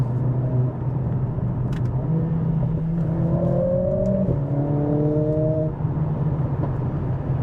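Exhaust of a modified Mercedes-AMG CLA45 droning steadily from inside the car, the engine note rising and dropping as it revs through upshifts and downshifts, loud and continuous.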